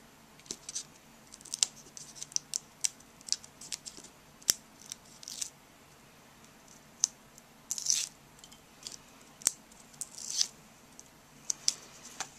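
Adhesive backing is peeled from a shaker card in short, irregular crackling tugs and scratchy snaps, close and crisp, scattered across a quiet room.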